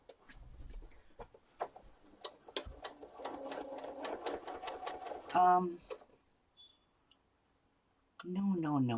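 A domestic sewing machine stitching a straight seam on a quilt block, running in a steady rapid whir with clicking needle strokes, then stopping; a person speaks over and around it.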